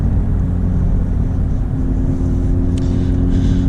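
A Honda Civic Type R FL5 tuned with a Hondata Flash Pro accelerates hard, giving a loud, steady engine drone with a sustained tone and deep rumble from inside the car.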